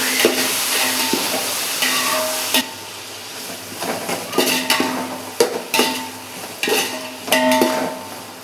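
Tomatoes sautéing in a pan, about 400 grams, with a constant sizzle broken by regular scraping and clanking strokes of a spoon against the pan, close up and fairly loud, with no voices.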